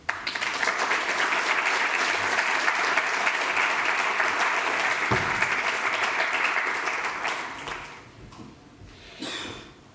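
Sustained applause from a graduation ceremony audience welcoming a speaker, steady and full for about seven seconds before tapering off, with a brief final flurry of clapping near the end.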